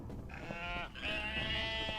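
Sheep bleating in the video game UNmetal, a couple of drawn-out, wavering bleats that carry over steady game background sound, fairly loud and close.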